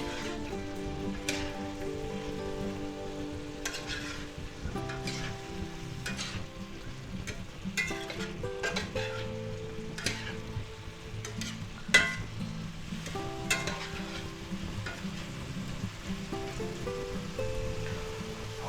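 Beef and mixed vegetables with mushrooms stir-fry in a pan, a steady close sizzle broken by scattered scrapes and clicks of tossing, running continuously with no voices.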